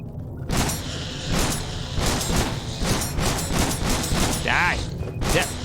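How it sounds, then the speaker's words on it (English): Rapid bursts of gunfire from Genesis Alpha One, a sci-fi space-station shooter, crackle repeatedly through the whole stretch against a dense, busy game backdrop, loud and close, with brief electronic effects near the end. "What are you shooting at?"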